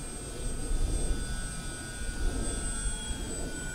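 An Arrows Bigfoot RC airplane in flight, a steady electric motor whine with high thin tones over a constant broadband rush, rising and falling slightly as it passes, with no talking.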